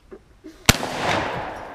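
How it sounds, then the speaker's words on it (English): A single sharp, loud shotgun blast firing custom ammo made of screws, followed by a brief rumbling echo and decay outdoors in a backyard. "How about we shoot some of these screws at it?"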